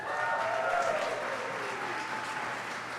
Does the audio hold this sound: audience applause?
yes